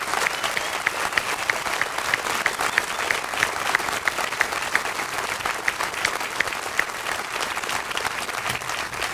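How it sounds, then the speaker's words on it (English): Sustained applause from an outdoor crowd honouring veterans at a memorial dedication, dense steady clapping with a few sharper claps standing out, continuing without break. "let us give them a hearty round of applause and celebrate with all of us"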